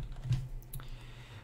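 Keys clatter on a computer keyboard in a quiet room, a few soft irregular taps close up and faint, with no voices.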